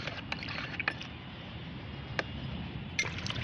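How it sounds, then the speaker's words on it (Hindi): Homemade liquid fertilizer made from mustard oil cake, diluted with ten parts plain water, is stirred in a container, giving a continuous sloshing wash with scattered clinks and splashy ticks close by. "मैंने 1 लीटर फर्टिलाइज़र बनाया था और उसमें 10 भाग सादा पानी मिलाया है"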